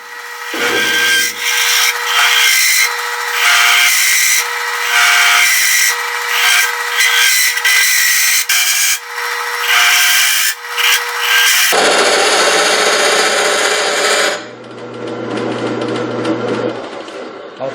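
A lathe tool cutting a wooden goblet gives a loud, continuous scraping rasp with a buzzing chatter, the tone shifting and cutting out briefly before a harsher stretch resumes, no voices.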